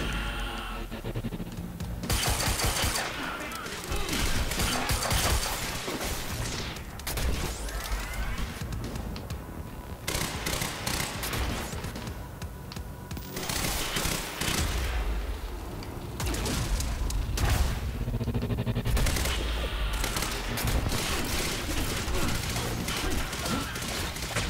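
Heavy, sustained gunfire from many weapons in the game Quantum Break, dense and loud almost throughout, with short breaks between bursts.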